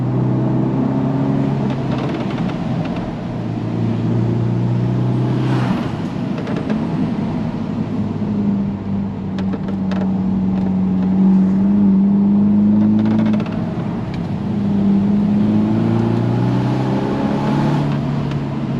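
A Mercedes-Benz SLC 300 Final Edition roadster climbs a hill, its engine droning steadily with rising and falling tone as it pulls, loud and close from inside the car, with no talk.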